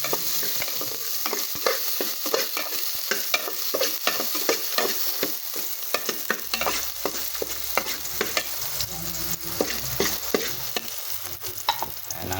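Garlic and onion frying in a pan and being stirred, giving a steady close sizzle with frequent sharp scrapes and taps of a spatula on the pan, no voices.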